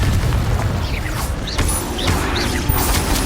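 A Confringo blasting spell goes off in Hogwarts Legacy, a loud booming burst with crackling and mechanical rattles, joined by short swooping magical whooshes and other spell effects over a dense, continuous game soundscape.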